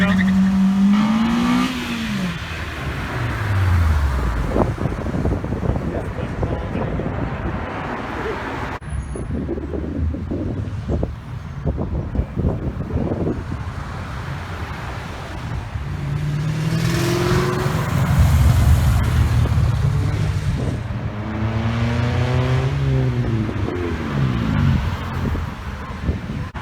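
Cars revving and accelerating away from a Cars and Coffee car show in 2019, engines rising and falling in pitch as they pass nearby, with crowd chatter and voices over the traffic.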